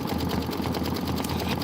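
A sewing machine stitches a pieced quilt block for a snowman-themed Christmas pillow, giving a steady, close mechanical whir with a fast, even needle rhythm throughout.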